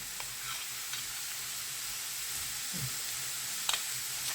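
A pat of butter, about 20 grams, melts into a pan of oil with a faint, steady sizzle, plus a few soft scraping taps; quiet and continuous, no voices.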